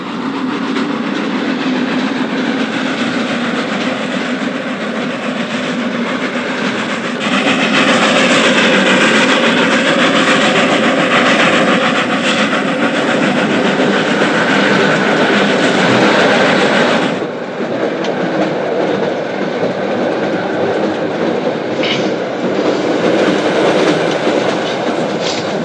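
Steady rolling of a train on rails, loud and close, with rhythmic clatter and a surge in intensity midway before settling back.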